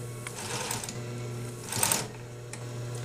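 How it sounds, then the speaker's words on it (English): Bernina Industrial 950 sewing machine stitching four layers of fabric for a pillowcase, a steady close whirring hum with a brief louder burst near the end, no talking. "I have 4 layers of fabric I'm stitching together for a pillowcase"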